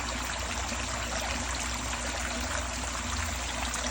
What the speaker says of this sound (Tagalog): tagak-tagak ng mga tubig